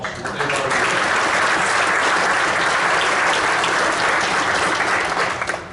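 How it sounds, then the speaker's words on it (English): Audience at a Fremont Rotary centennial projects launch applauding steadily, a dense, loud wash of clapping that holds evenly for the whole stretch with no voices over it. "let's give those guys a round of applause"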